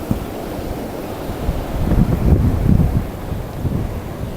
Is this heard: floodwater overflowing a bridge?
yes